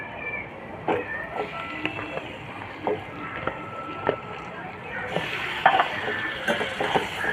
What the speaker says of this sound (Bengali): এবার চিকেন দিয়ে এটা আর একটু ভালো করে ভেজে নেব